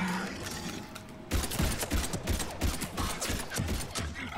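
Rapid weapon fire in the sci-fi shooter Mass Effect 3 during a fight against Husks: a dense, continuous string of quick shots with mechanical clatter, steady and moderately loud.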